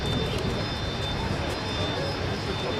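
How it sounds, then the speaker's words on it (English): An Antonov An-328 aircraft taking off at an air show, a steady loud engine roar with a thin high whine, held evenly throughout against a wide outdoor crowd ambience. "This is the takeoff of the Antonov,"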